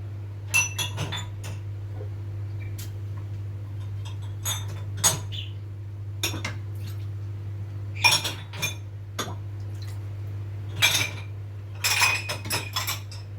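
Intermittent clinks and clatters of dishes and glassware, some in quick clusters, over a steady low mechanical hum.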